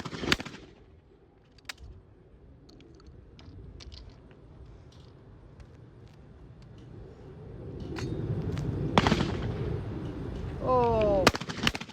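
A shotgun shooting doubles trap clay targets outdoors: a sharp, loud report at the start, then a quiet stretch of low background rumble, followed by two more distant-sounding blasts near the end.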